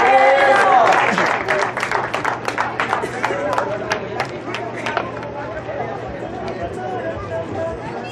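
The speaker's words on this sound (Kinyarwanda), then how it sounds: "Mumwakire n'amashyi." Crowd applauding and cheering to welcome a party leader at a Green Party political rally in Gasabo, Rwanda, with dense clapping that is loudest at the start and then tapers, and voices chattering throughout.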